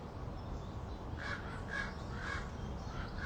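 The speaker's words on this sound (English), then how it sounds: "Birds now." Several crows caw outdoors in a quick series of harsh calls, sounding distant and fairly faint over a steady wash of outdoor background noise, with no speech.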